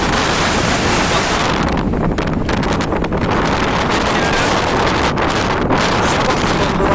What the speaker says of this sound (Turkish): Rüzgar her geçen saatte hızını arttırmış.